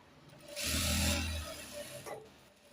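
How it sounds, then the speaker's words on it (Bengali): A sewing machine stitches a boy's pajama in a short loud whirring burst of about a second, then quieter fabric handling follows. "একটা চাপ সেলাই ধরবেন,"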